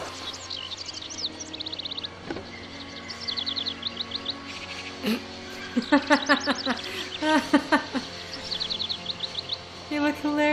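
Birds in the adventure game Syberia chirp in repeated quick bursts of high tweets, fairly close and clear, with a soft low background hum and occasional talk.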